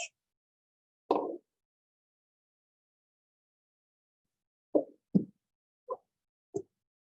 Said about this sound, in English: You gotta add the glue.